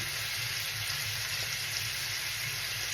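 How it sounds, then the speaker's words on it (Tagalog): Vegetables stir-fry in a hot pan with black bean sauce, producing a loud, continuous close-up sizzle with a steady hiss and no pauses. "Stir fry na black bean sauce po guys."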